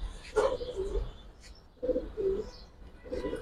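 A female Chuithal Kaldom pigeon cooing close by, three soft low coo phrases spaced about a second apart with faint chirps between them.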